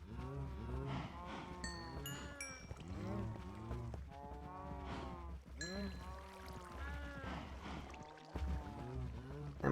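Cows in Minecraft moo repeatedly, several drawn-out overlapping calls close by in a loose rhythm, with a steady low background hum beneath.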